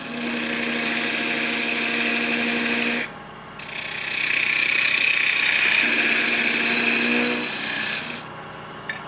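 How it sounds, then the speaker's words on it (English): A wood lathe spins while a parting tool cuts a tenon, producing a steady high-pitched whine with scraping, rasping texture that pauses briefly twice and then resumes, loud and close with no talking. "What we need is a parting tool to make the tenon over here."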